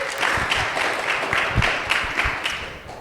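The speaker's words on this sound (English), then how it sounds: "let's welcome him with another round of applause" An audience at a talk on the existence of God breaks into steady, full applause, a dense wash of clapping that holds for several seconds before easing slightly at the end.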